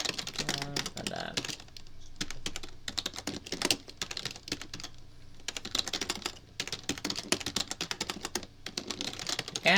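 Rapid typing on a computer keyboard, heard close up in dense bursts of clicks separated by short pauses, with faint speech at the start.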